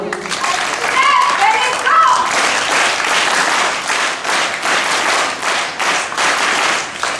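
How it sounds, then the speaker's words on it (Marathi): A school audience at a Lokmanya Tilak death anniversary event at Tilak Vidyalaya, Dhantoli, Nagpur breaks into loud, sustained applause, a dense wash of many hands clapping, with a voice briefly heard at the start. "जोरदार टाळ्या होईल."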